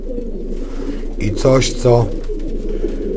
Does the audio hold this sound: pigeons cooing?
yes